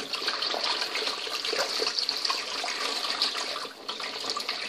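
Water runs steadily from a kitchen tap as vegetables are rinsed in salted water, a continuous splashing hiss with no speech.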